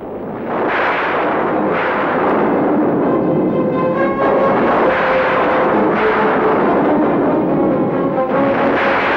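Loud, sustained film sound effect of a bomb blast demolishing a building, a dense rumbling roar that swells and holds for several seconds with layered crashing debris and tonal music-like elements woven through.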